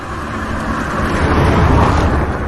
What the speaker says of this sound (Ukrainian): Звичайно, це їде машина.